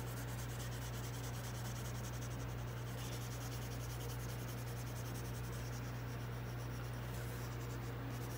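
Colored pencil shaded on an angle across paper, a faint, steady scratchy rubbing that continues without pause beneath a constant low hum.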